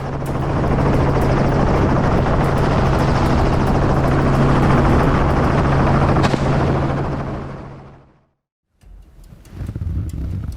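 A helicopter at close range keeps up a loud, steady rotor chop and engine drone over a wild hog hunt in the United States, with sharp pops mixed in before the sound cuts out and returns more faintly.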